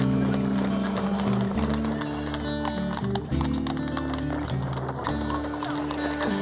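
A horse pulling a flat cart on a drive into Appleby clip-clops in a steady trotting rhythm, fairly close, with music playing and a voice briefly audible.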